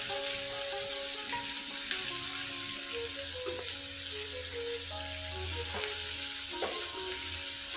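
Cumin seeds fry in hot oil in a pan for a fish curry, giving a steady, close sizzle that runs the whole time, with faint clinks and a soft tonal hum underneath.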